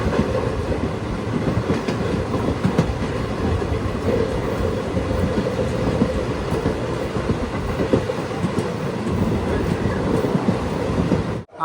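A superfast sleeper express train runs along single-line track near Palani between Palakkad and Chennai, with a loud, continuous rumble and clatter of wheels heard from inside the carriage.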